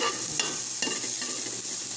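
Onion and garlic sautéing in cooking oil, a steady close sizzle with a couple of soft stirring scrapes, no voices.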